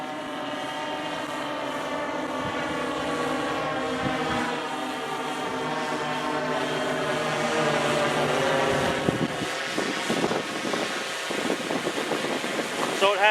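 A small unmanned aircraft climbs to 65 meters with a steady propeller whine and buzzing harmonics, heard for most of the clip, and a voice speaks over it toward the end.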